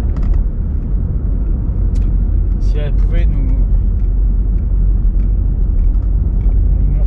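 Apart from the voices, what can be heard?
Volkswagen Golf 4 1.9 TDI accelerating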